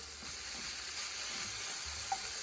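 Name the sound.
ground turkey meat browning and sizzling in a pan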